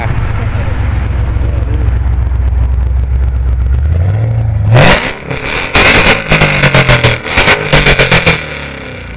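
Ford Mustang with straight pipes and only headers, engine revving up from a steady idle into loud, repeated sharp throttle blips, close by, with people talking over it.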